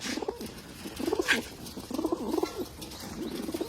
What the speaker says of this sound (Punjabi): ਕਿੰਨੇ ਕਬੂਤਰਾਂ ਹੁੰਦੇ ਦੇਖ ਲਓ ਮੱਖਣੀ ਦਿੱਤੀ ਹੈ ਜੀ